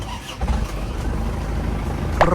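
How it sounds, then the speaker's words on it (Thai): An Isuzu D-Max 2.5 turbo diesel pickup from 2003 cranks over and settles into a steady running note. The sound stays close and continuous, with no talking. "ขอฟังเสียงเครื่องยนต์สักนิด"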